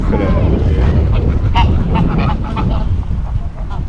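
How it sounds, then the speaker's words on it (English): Geese honk in a loose cluster in a Munich park, a little distant, under strong wind rumble across the microphone. "The geese are doing something, they're communicating."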